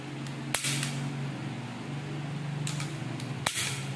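CF98 pistol slide racked during a chamber check, two sharp metallic clacks about three seconds apart, close and clear over a steady low hum.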